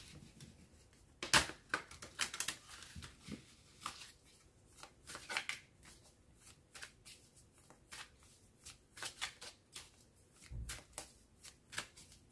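Tarot cards are shuffled for a new reading, giving quiet, crisp riffles and taps in irregular bursts, close and soft with no talk.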